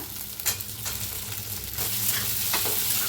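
Sago and potato roasting in a pan with green chillies for a fasting meal, a continuous sizzle with stirring scrapes and occasional spatula knocks, growing slightly louder partway through.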